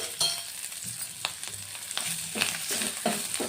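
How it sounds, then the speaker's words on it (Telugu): Onions frying with salt, curry leaves and turmeric in a pan for a tomato curry, a steady close sizzle and crackle with occasional stirring scrapes and clinks, no talking. "ఉల్లిపాయ వేగడానికి కొంచెం ఉప్పు వేసుకుంటున్నాను"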